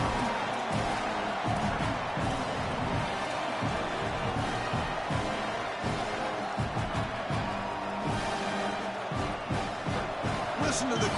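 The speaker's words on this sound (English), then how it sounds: "Listen to the crowd energy here in the early going." Stadium crowd in a college football video game, a dense, steady roar of many voices filling the whole stretch, with swells of cheering and scattered thumps underneath.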